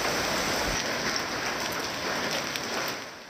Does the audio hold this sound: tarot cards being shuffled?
no